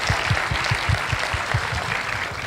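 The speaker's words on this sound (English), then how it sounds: "So a very big round of applause, guys." An audience at a startup event claps in a steady burst of applause at moderate level, close and continuous for a couple of seconds without speech.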